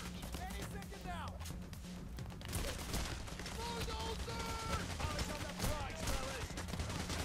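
Rapid gunfire from several guns in Payday The Heist, layered with scattered bursts and other game noise, runs steadily and fairly loud, with voices talking over parts of it.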